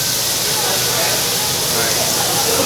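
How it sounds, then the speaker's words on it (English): Marinated Korean barbecue meat sizzles on a grill at a restaurant, a loud, steady hiss of frying that runs unbroken throughout, with no talk over it. "You hear that sizzle?"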